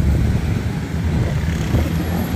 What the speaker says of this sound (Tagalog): Grabe ang traffic, oh.